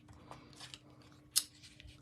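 Scissors snip through paper squares, cutting them in half with a few soft, quiet cuts and one sharper snip in a brief, otherwise quiet moment.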